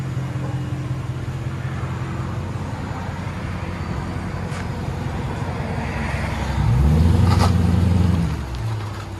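A Dodge Charger with a 5.7L HEMI V8 breathing through Flowmaster Flow FX exhaust rumbles steadily at idle, then swells into a louder, deeper rev near the end before easing back down, with no talking.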